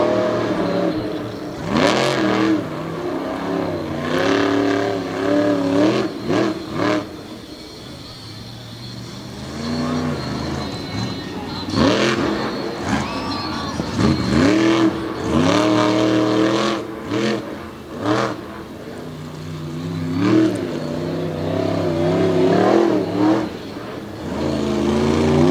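Monster truck engines roar and rev hard during freestyle runs over obstacles at Lake Erie Speedway, loud rising and falling engine howls in repeated bursts with brief quieter dips, heard without talk.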